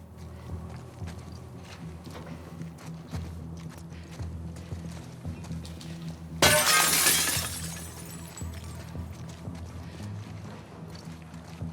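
Glass shatters in The Last of Us Part II, a sudden bright crash partway through followed by a brief tinkling of falling shards, set against quiet ambient game noise and scattered soft footsteps.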